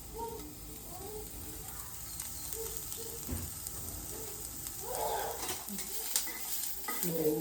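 Onion and garlic sizzle softly while frying in a pan, and a utensil repeatedly scrapes and stirs them against the metal. The sizzling is quiet and close, with occasional louder clinks.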